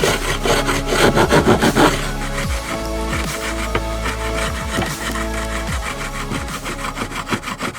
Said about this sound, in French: Je reprends la lime ronde pour bien creuser ma fente.